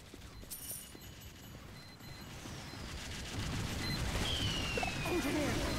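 Sentry gun fire in Team Fortress 2 Mann vs. Machine mode rattles as a dense, sustained burst of rapid shots, building louder toward the end amid other battle noise.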